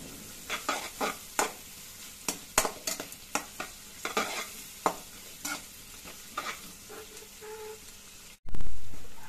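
Onions sautéing until brown in a pan for chicken gravy, with a steady sizzle punctuated by a dozen or so sharp spatula scrapes and clacks in an uneven rhythm, close by, ending in a brief muffled thump.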